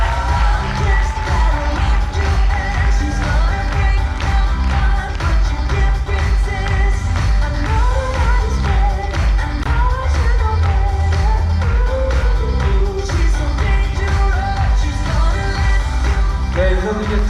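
An audience at a seminar at the Sono Belle resort in Cheonan applauds to welcome a company president onto the stage, producing dense, loud, sustained clapping with crowd noise throughout.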